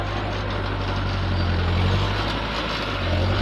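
A Fiat 411 tractor engine runs with a steady low diesel drone and chugging throb, close and continuous with no talk, ending in a slight bump.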